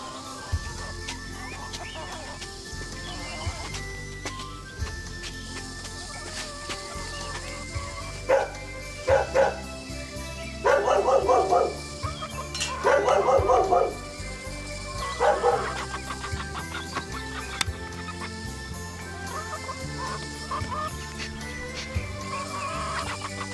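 A dog barks in short bursts of several yaps in a rural yard where chickens cluck in the background, the barking loud and fairly close, with no voices over it.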